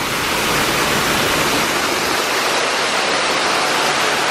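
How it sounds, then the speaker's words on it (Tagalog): Waterfall by a hotel inside a covered, greenhouse-like building, a loud, steady rushing roar of falling water that fills the whole stretch without pause or voices. "May waterfalls."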